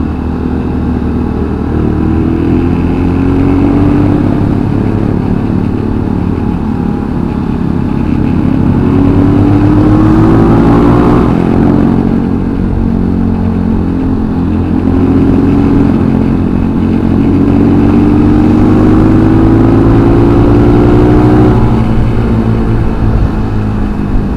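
Trail motorcycle engine held at full throttle, loud and close, its rising and falling revs droning steadily for the whole stretch with a faint mechanical clatter.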